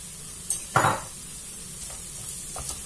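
Sliced bell peppers dropped onto browned onions in a hot pan, a sharp burst of sizzle and clatter that settles into a quieter steady frying hiss, with no talking.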